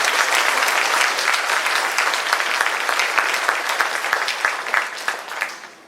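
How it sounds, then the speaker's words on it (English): Sustained applause from an audience at an Asian American Engineer of the Year award ceremony, honoring sponsors, committee and volunteers; steady dense clapping that tapers off toward the end. "I'd like to give them a big round of applause."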